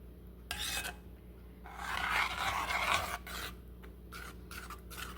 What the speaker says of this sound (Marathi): सतत हलवत राहायचं आहे नाहीतर ती खाली लागायची शक्यता आहे